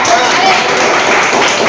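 Audience clapping at a school literary and cultural program in a high school, heard as a steady, dense wash of applause that continues at an even level from start to finish.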